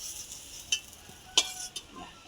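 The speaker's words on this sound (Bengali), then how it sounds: "হালকা করেই ভাজতে হবে" Soybean chunks fry lightly in a pan, a soft continuous sizzle broken by a few sharp stirring clicks of a utensil against the pan, close and fairly quiet with no talk.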